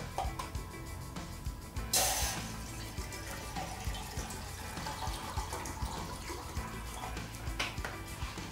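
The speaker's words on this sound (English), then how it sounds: "Pour some water in there" Water pours into a metal canteen cup sitting on a Vargo Hexagon wood stove over a fire, a close, continuous splashing trickle with a brief louder gush near the start.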